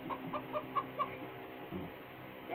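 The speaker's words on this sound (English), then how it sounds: "It's a chicken." A chicken in the Minecraft Story Mode video game clucks in a quick series of short, close, clipped notes, then falls quiet over a low steady game background.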